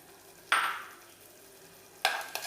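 Papaya and jaggery payasam simmers in a pan as a spoon stirs it, two short scraping, sizzling bursts separated by quiet bubbling, close and fairly soft.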